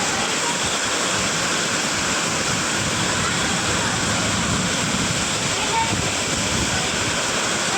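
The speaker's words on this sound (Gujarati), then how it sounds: "યુટ્યુબ ફેમિલી વરસાદ ને વાવાઝોડું જોવો તમે એકવાર હારે" Heavy rain and storm wind over a flooded village create a dense, unbroken roar of water and gusts, loud and close throughout.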